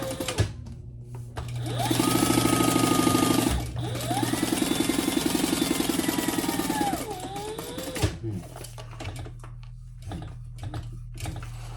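A sewing machine bastes a cork-fabric bag flat, running in two steady bursts of rapid mechanical stitching with a short pause between, close and loud, then falling quiet.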